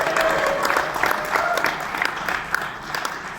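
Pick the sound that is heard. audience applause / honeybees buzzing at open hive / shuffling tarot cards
audience applause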